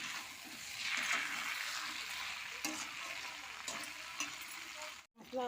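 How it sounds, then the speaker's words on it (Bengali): Soybean chunks and fried potato stir-fried with spices in a Bengali home kitchen give a steady, close sizzle with a few scraping stirs throughout, briefly cutting out near the end. "এবার দেবো সয়াবিন, আলু ভাজা ছিল সেটা দিয়ে দেবো, একসঙ্গে আবার কষবো।"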